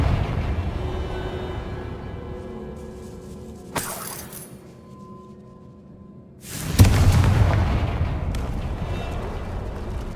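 A Confringo spell explosion in Hogwarts Legacy bursts in suddenly and loudly after a lull, following an earlier sharp crack. It leaves a dense, roaring rumble and crackle that gradually fades.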